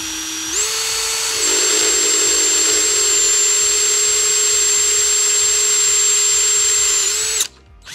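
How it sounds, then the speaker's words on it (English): A power drill with a 3/8 bit boring through aluminum on a TrailMaster Hurricane 200X mini bike frame, a loud steady high whine that rises in pitch, holds for several seconds, then winds down abruptly. "We're going to go ahead and drill through here."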